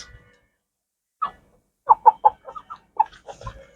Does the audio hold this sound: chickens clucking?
yes